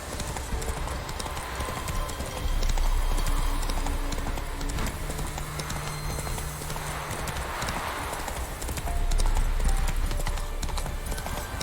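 Hooves of the horse Roach clip-clop steadily at a gallop in the video game The Witcher 3, a brief whinny among game ambience, with a voice briefly speaking over it.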